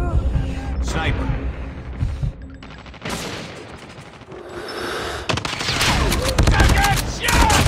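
Gunfire in the Call of Duty video game crackles continuously, with bursts of automatic fire and booming shots filling the mix. A shouted in-game voice breaks in and rolls into dense, loud firing.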